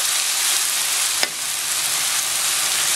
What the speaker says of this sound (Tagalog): Lagyan natin ito ng soy sauce.